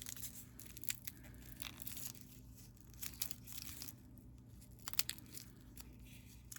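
Plastic packaging of a Timex Peanuts chronograph watch being handled and torn open, giving faint, intermittent crinkles and sharp crackling snaps in a quiet room.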